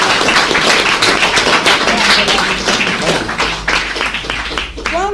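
An audience at a book presentation for Mariuccia Gattu Soddu's "La Maestra di Barbagia" claps in a close, loud burst of many overlapping hand claps that thins out toward the end, with a voice briefly heard over it.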